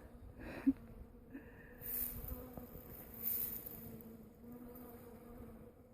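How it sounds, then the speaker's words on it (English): Bees swarm a flowering tree outdoors, their steady low buzz droning continuously for several seconds, with a few louder passes as insects fly close and a brief sharp knock near the start. "The whole tree is just buzzing with bees."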